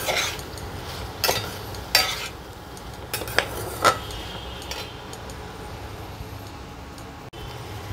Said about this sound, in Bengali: এগুলো দিয়ে আমি ভাজব।